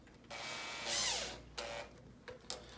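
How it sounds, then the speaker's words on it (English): A power driver whirs briefly as 6x1/2 screws are driven into a mirror panel during assembly, giving a rising motor whine followed by a few short, quiet bursts. "Take 2 of your 6x1/2 screws and get the screws started"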